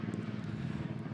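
Helicopter flying overhead as a low, steady rotor drone, a continuous throbbing rumble that stays level for the whole brief moment, with no talking over it.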